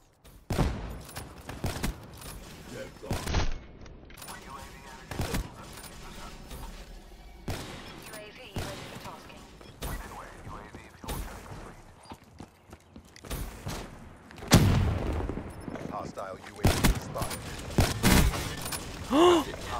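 Scattered gunshots and short bursts of fire in Black Ops 3 on the Havoc map, sharp cracks spread irregularly through a busy stretch of game sound.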